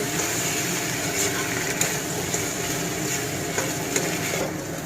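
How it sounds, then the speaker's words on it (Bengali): Fried potato pieces stirred briskly in a pan, with a loud steady sizzle and occasional scraping knocks of the utensil, close up and with no speech. "এবার পিস করা আলুগুলো দিয়ে দিলাম, খুব নাড়াচাড়া হচ্ছে"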